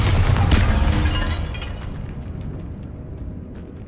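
A Bombarda explosion spell cast in Hogwarts Legacy: a loud, booming blast with crackling debris that decays over a few seconds, heard alone with no talk.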